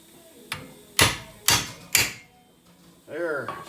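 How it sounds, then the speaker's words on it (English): An impact hammer taps a front brake rotor onto a 2005 Volkswagen Jetta TDI, four sharp metallic knocks spaced about half a second apart, close and loud, followed by a brief voice. "smack her on with impact hammer, she's good"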